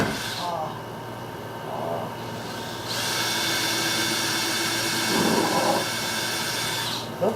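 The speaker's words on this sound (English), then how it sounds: "We'll start with the pilot hole." Power drill boring a pilot hole for large screws while installing door hardware on a DIY 5x10 teardrop camper, a steady whirring drone running for several seconds, with short bursts of talk at the start and near the end.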